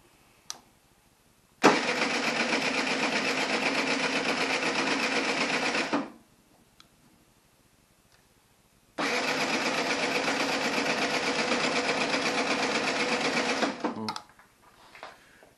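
Two long cranking bursts from a Yamaha TZR with an AM6 moped engine that is cold and has not been started in a while, each droning for several seconds before cutting off, with quiet gaps between and no catch.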